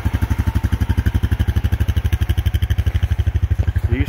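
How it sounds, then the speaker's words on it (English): A 2020 Honda Rubicon ATV engine fires up outdoors at night and settles into a loud, close, even idle thump, steady and rhythmic throughout with no voices over it. "Here's the 2020 Honda Rubicon. I'll start it for you. She's starting real good."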